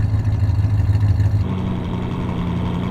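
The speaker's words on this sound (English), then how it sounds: "You can have your classic Ferrari, the high revving V12" A Tesla fitted with a Milltek Sport exhaust sound system plays a simulated high-revving Ferrari V12, a steady loud engine drone that shifts to a lower, smoother tone partway through.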